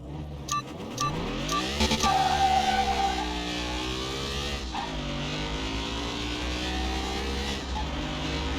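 A 2-carb OHV V8 AC Cobra races in Car Mechanic Simulator 2021, its engine revving loudly and steadily with rising and falling pitch as it accelerates through gear changes, a continuous close-up drone with no talking.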